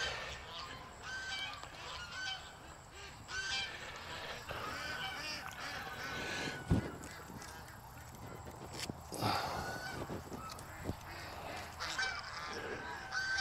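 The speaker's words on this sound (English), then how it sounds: "Now we're just gonna let out the Top Gun crew, which is basically our waterfowl." Ducks and geese on a small farm honk and quack in a busy, overlapping chorus, close and steady for the whole stretch, with a louder honk now and then and no talk.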